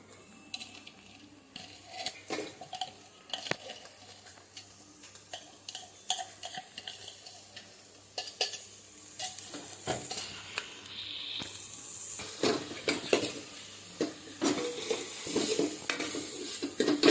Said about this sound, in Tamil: அப்படியே அந்த பட்டர்லேயே கொஞ்சம் சாட்டே பண்ணுங்க, வெந்துடும் அதுலேயே.